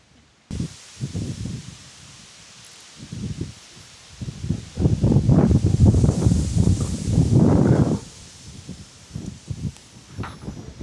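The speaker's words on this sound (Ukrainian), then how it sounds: "Вітер просто ураганний, це при тому, що ми сховались" Strong October wind gusts roar and buffet the microphone in heavy, uneven bursts while fishing for perch and pike, with a steady hiss of rushing air underneath.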